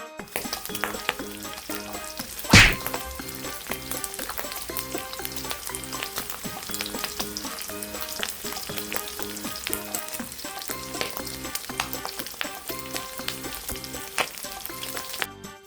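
Pork belly frying in a pan as its fat renders out, a dense, steady crackle and spatter close up, with one loud clatter early on.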